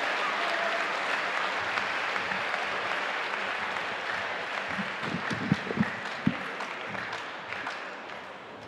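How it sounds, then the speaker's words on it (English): Audience applause for student candidates for Sergeant at Arms at a student senate debate, a steady wash of clapping from a room of people, with a few sharper nearby claps standing out toward the end before it begins to thin. "Please join me in giving another round of applause to our candidates for the office of Sergeant at Arms"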